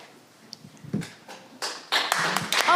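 Audience applause after an introduction at a redistricting listening tour event, starting as scattered claps and swelling into fuller clapping from a crowd in a meeting room.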